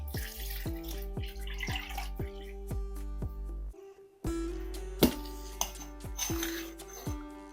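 Clean water is poured over freshly churned homemade butter in a pot while making desi ghee, a steady splashy pour with a few clinks of the vessel, set against a background of sustained musical tones.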